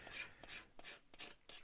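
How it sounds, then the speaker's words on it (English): A plastic part from a 1/48 Revell PBY-5 Catalina scale model kit is scratched up close to key it for super glue, about five quick, even rasping strokes in a steady rhythm, faint and with no talk. "Just put some scratches in it, just so the super glue has got something to stick to."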